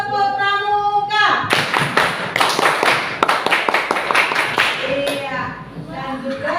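Elementary school class in an Indonesian classroom performing a Pramuka scout clap, a burst of sharp rhythmic group handclaps in a patterned sequence, with a teacher's voice before and after.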